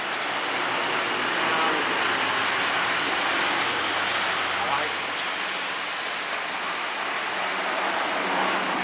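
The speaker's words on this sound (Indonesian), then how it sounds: "alhamdulillah hujan" Steady, dense rain hisses continuously on surfaces during a long road journey, loud and even throughout, with a low rumble beneath and voices talking faintly under it.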